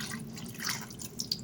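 Warm water trickles and splashes over raw chicken drumsticks in a pan, a soft, faint stream with a couple of small drips near the end.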